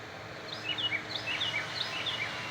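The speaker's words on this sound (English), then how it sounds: "hear those birdies going off?" Birds call outdoors, with short high chirps and whistles repeating at a moderate distance over a soft steady background hum, and no talk.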